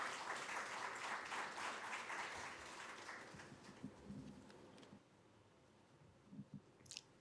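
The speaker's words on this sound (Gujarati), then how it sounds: "આપણે તાળીઓથી વધાવીએ" A seated audience at a talk on humour welcomes the speaker Shahbuddin Rathod with dense, moderately distant applause that thins out and dies away into near silence, with a few stray claps near the end.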